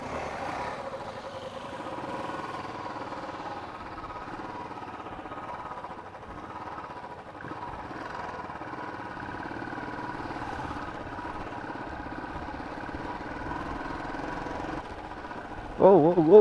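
A motorbike held in first gear on a rough off-road trail at Avalabetta, a steady low engine drone that runs throughout, rising sharply right at the end.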